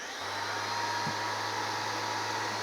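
An M18 18-volt cordless 5-inch random orbit sander runs on low speed with a steady, fairly quiet whirring hum, with a low motor drone throughout and no change in pace.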